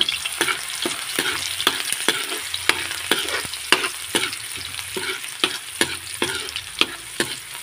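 Garlic and onion sautéing in hot oil for pork giniling, a steady sizzle with regular spatula scrapes and stirring taps every half second or so, close and continuous with no talking.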